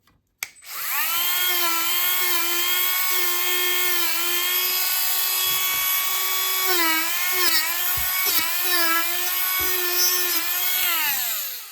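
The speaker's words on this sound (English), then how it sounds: "I just use my little Dremel." A small Dremel rotary tool whines at a high pitch while cleaning oxidation off thin metal wire, starting up abruptly and running close and loud, its pitch dipping briefly as it bears on the work, then winding down at the end.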